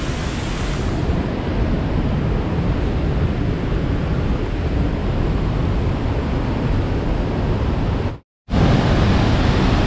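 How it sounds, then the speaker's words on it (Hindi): Waterfall near the India-Bangladesh border, a loud, steady broadband roar of rushing water close by with wind buffeting, briefly cut to silence near the end before resuming. "दोस्तों, आपने झरना देख लिया"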